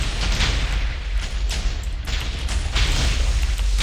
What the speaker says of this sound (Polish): Czy ja te wybuchy robię?